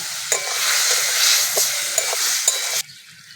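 Chilli powder and turmeric powder fry with a little water in a pan, a loud, dense sizzle with spatula scrapes and taps recurring every half second or so, then stopping abruptly.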